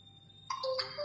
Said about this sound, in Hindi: वॉच में रिंगटोन भी बज रही है और वॉच कर रही वाइब्रेट